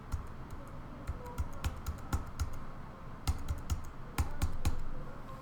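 Computer keyboard keys tapped while trimming video frames in editing software, a quick irregular run of close, crisp clicks with short pauses between bursts and no talking.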